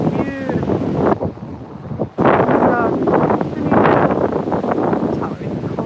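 Gusty wind buffeting the microphone at a cold, windy South Dakota sunset, heavy roaring bursts rising and falling, with a person talking over it and faint bird calls.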